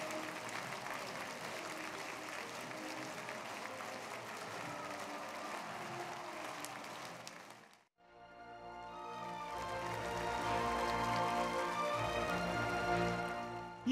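Warm applause from a packed hall audience at the opening gala of an ethnic minority arts festival, a steady wash of clapping that fades to a brief pause before music swells in.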